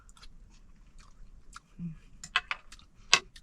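Someone chewing mango pieces soaked in alcohol, with quiet, close, wet chewing and squishing sounds in short irregular bursts, plus a soft low hum.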